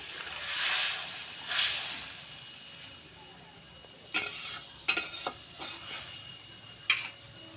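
Hilsa and eggplant curry gets stirred in a pot just after water is added, a soft wet simmering hiss carrying sharp spoon scrapes and clinks that grow more frequent toward the end.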